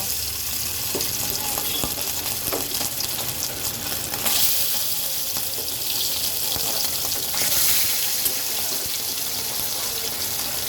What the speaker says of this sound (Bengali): মাছটা ভাজার জন্য কড়াইতে আমি তেল গরম করতে বসিয়ে দিয়েছিলাম এখন আমি মাছগুলো দিয়ে দেব